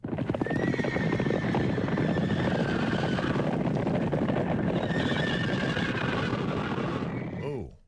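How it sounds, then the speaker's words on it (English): Loud, continuous drumming of many hooves as horses stampede through a ranch, with repeated whinnies rising over the rumble, ending with a fading whinny. "This is the sound of horses stampeding through a ranch, Anaya."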